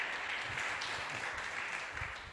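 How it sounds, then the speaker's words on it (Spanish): A church congregation applauding during a sermon, a steady wash of clapping held at even strength for a couple of seconds, with no voice over it. "Y dale un fuerte aplauso entonces."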